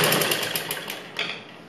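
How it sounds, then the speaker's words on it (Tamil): A sewing machine stitching blouse fabric, a fast, steady mechanical whir with rapid needle ticks, close and alone for under two seconds. "அப்படியே ரெண்டு தையல், அப்படியே திருப்பி அதில் இன்னொரு தையல்"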